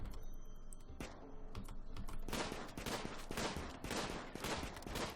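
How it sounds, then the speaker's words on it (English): Rapid, crackling bursts of gunfire in the video game RimWorld fire nonstop, dense and quick like an automatic weapon, heard from a distance. "This is how fast gunshots go."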